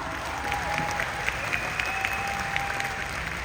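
An audience at a business seminar applauds in a sustained wash of clapping, with individual claps popping out, heard from within the room under a faint tonal hum.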